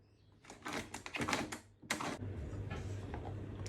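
Rapid mechanical chopping bursts from a small food chopper chopping garlic, a few seconds of loud whirring clatter, then a steady hum continuing underneath.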